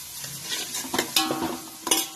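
Onions are stirred as they fry in a pan for a whole masoor lentil dish, with close, uneven scraping strokes of a spoon over a soft sizzle.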